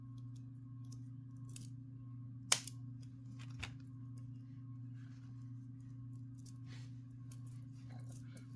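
Scissors snip cornflower blue round agate beads off a strand, giving one sharp close cut and a fainter second click over a steady low electrical hum.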